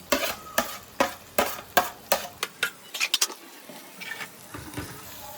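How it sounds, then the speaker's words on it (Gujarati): Fried okra tipped into masala gravy and stirred in a pan, a run of sharp spoon scrapes and clinks in steady rhythm, then softer stirring with a faint sizzle. "હવે એની અંદર આપણે આ ભીંડી નાખી દઈશું જે ફ્રાય કરી હતી ને"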